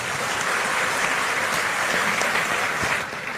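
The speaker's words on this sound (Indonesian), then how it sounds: "kita beri tepuk tangan Bapak" An audience at an Islamic Quran-interpretation gathering applauds, producing a dense sustained clapping that holds steady before easing off at the end.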